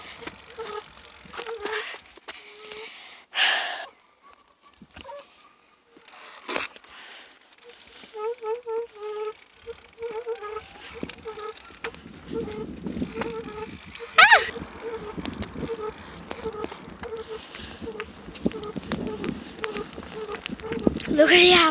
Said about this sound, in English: My bike just makes weird noises.